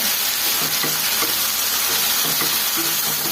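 Capsicum frying in hot oil for capsicum rice: a steady, close sizzle and hiss with soft stirring scrapes now and then, no voices.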